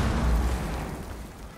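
A deep, rumbling breaching explosion in the video game Rainbow Six Siege booms loudly and then slowly fades, with no talking over it.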